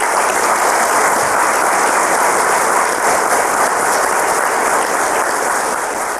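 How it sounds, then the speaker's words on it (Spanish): Loud, sustained applause from a large audience at a graduation ceremony after the diploma presentation, a dense steady roar of clapping that holds evenly for the full stretch without pause. "Brindemos un fuerte aplauso a todos ustedes."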